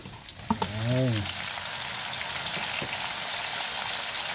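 Tomatoes tipped into a hot frying pan for squid adobo, a clatter as they drop in followed by steady loud sizzling and frying close by, with a brief voice speaking early.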